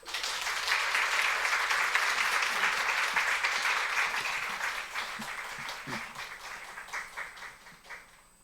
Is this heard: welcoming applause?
yes